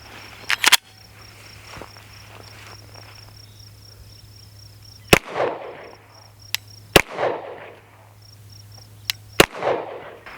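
Sharp gunshots ring out on a range while zeroing a red dot sight, a few loud isolated cracks spaced seconds apart with echoing tails, over a steady insect chirp and a low hum.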